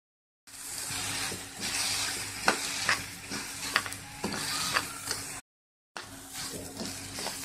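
Multigrain mix dry-roasting in a pan, worked in small batches, with a dry rustling sizzle and repeated scraping stirs, close and steady, briefly dropping to silence near the end.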